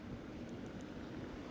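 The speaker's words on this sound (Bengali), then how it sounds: "বাতাসটা খুবই সুন্দর, হাঁটতে ভালোই লাগতেছে।" Wind blowing steadily by the sea in Dubai, a soft continuous rush of air buffeting the microphone, quiet and unbroken with no one talking.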